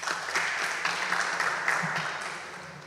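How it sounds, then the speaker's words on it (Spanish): A conference audience applauds steadily, dense clapping sustained for a few seconds before slowly fading. "Aplausos, por favor."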